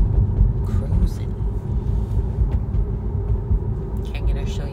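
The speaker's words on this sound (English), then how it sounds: "Car ride time" A car drives along with a steady low engine and road rumble heard from inside the cabin, while a person talks over it.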